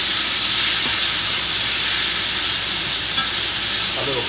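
Meat frying in butter in a cast iron skillet, a loud, steady, close sizzle and hiss that fills the whole stretch without a break.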